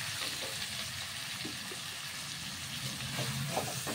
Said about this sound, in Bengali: একটা ছান্তার সাহায্যে আমি তুলে নিচ্ছি